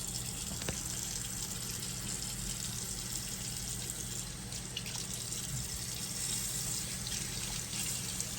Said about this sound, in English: we're just going to be rinsing this off completely for a little while.